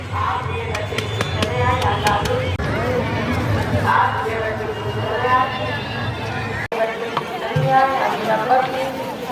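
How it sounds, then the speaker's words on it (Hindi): A dense crowd at the Mahakumbh fair fills the air with steady chatter and hubbub, many voices blending close and far, with someone speaking over the babble. "बहुत भीड़ है महाकुंभ में"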